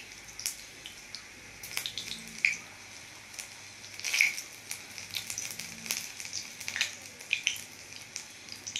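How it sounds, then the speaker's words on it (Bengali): Green chillies and panch phoron spices frying in hot oil for a methi greens, potato and brinjal dish, a steady soft sizzle with scattered crackles and pops, fairly faint and close, with no talking. "তেল গরম হয়ে গেছে, 5 ফোড়ন কাঁচা লঙ্কা"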